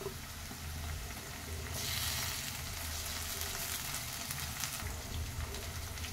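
Crushed garlic paste fries lightly in a pan with a continuous, dense sizzle that swells briefly when the paste goes in, steady and close throughout.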